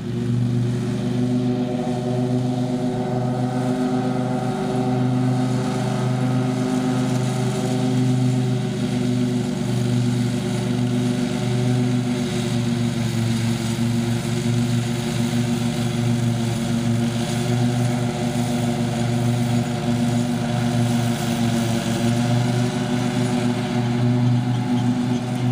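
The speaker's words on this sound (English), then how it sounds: "Looks like he likes this Husqvarna tractor." A Husqvarna lawn tractor mows grass, its engine droning steadily with a harmonic hum that rises and falls slightly as it moves along a row, close and continuous.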